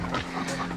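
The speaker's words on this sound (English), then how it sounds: "we met a lot of random dogs that ran up to us so far" A dog panting close by on a hiking trail, short quick breaths over a steady hum of outdoor ambience, with no talk.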